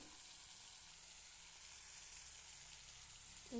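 Tomatoes frying in oil for a tomato chutney: a faint, even hiss of sizzling runs throughout, low and unbroken, ending in a brief louder knock.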